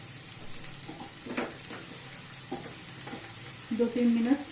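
Green chillies sizzle and are stirred in a pan already holding lightly fried garlic, ginger and onion, with a steady low frying hiss broken by a few scraping stirs and a louder burst near the end.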